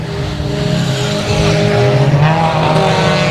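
Dirt track race cars roar around a speedway in a loud, continuous pack, engines droning and rising as they run the high line, close and dominant.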